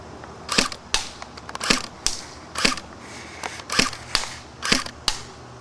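WELL R4/MP7 A1 airsoft gun fired single shot at a range of 50 feet, about nine sharp, snappy pops spaced roughly half a second to a second apart, close and clear with no talk.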